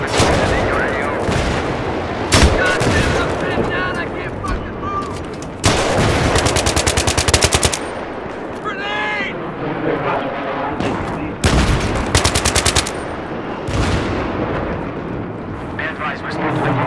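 Machine gun fire in Battlefield 3 multiplayer on Caspian Border, loud rapid bursts and volleys with explosions, alternating with quieter stretches and voices talking over the combat.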